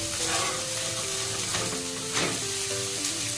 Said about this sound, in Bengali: দেখো এই যে এবার লঙ্কা কুচি আর এই যে টমেটো কুচি দিয়ে দিচ্ছে